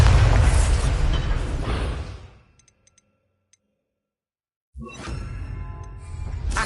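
A Bombarda blasting spell goes off in the Hogwarts Legacy game with a loud, close, booming explosion. A rumbling tail fades into near silence, then a second burst of crackling debris noise follows.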